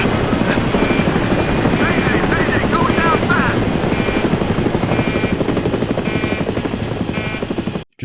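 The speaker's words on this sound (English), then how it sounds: "only for the chopper to get hit" A helicopter in Call of Duty Mobile beats steadily and loudly with a rapid rotor chop that continues without a break, then cuts off abruptly at the very end.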